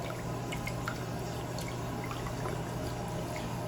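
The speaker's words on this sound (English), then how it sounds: "I'm just going to splash some of that water up in there." Water is splashed by hand up into a sink overflow during a home inspection, a continuous close trickle and light splatter running steadily throughout with no talking.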